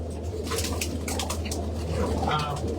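Pigeons coo softly inside a loft, a steady low murmur with a few brighter calls and faint wing rustles over a constant background hum.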